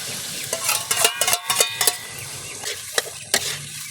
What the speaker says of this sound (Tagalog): Para malagyan lahat ng itlog yung ampalaya. Yan natin i-mix.